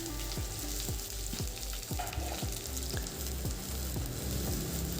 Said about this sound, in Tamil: தாளிப்புக்கு பச்சை மிளகாய், வரமிளகாய், வெங்காயம், கருவேப்பிலை போட்டு நல்லா வதங்கி வரட்டுங்க